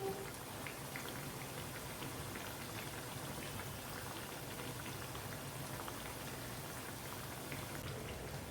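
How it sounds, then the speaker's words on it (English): Dal vada made with tur dal fry in oil on medium-low heat, producing a soft, steady bubbling sizzle that stays even and fairly faint for the whole stretch, with no voices. "Let it become golden brown. Until then we have to fry this."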